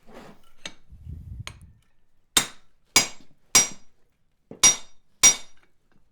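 Five sharp metallic hammer blows ring out at a steady pace as a hand-forged round swage is driven into a 1/2-inch bolster on an anvil, each strike loud and close with a bright ringing tail, after soft rustling and a few light taps.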